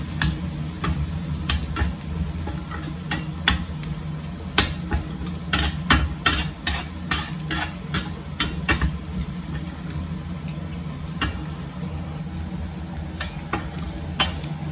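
Kashmiri chilli sautéing in oil while being stirred, a continuous low sizzle broken by sharp, irregular clacks of a spoon against the pan, clustered thickly midway and sparser toward the end.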